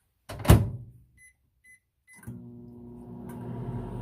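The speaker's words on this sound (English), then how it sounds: "then we're gonna pop it in the microwave. We're gonna do this, pop this in for 15 seconds." A door thuds shut, three short beeps follow, then a low steady hum builds as a microwave oven starts running.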